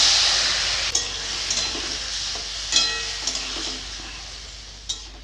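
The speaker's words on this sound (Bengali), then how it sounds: "তেল গরম হয়ে গেছে, মাখানোগুলো দিয়ে দিব।" Marinated prawns sizzle and fry in hot oil in a wok for a Bengali poppy-seed cauliflower and prawn curry, a steady hiss broken by a few sharp crackles and spatters, with no one speaking.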